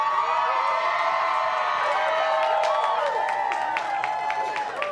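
A tennis crowd at the Australian Open cheers, whoops and applauds continuously, a dense, loud roar of voices and clapping filling the arena.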